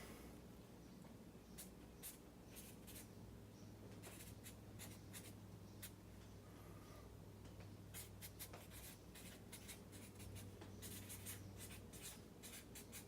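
Pen scratching across paper while writing a prediction, a quiet close series of short, irregular strokes and scribbles with brief pauses between them.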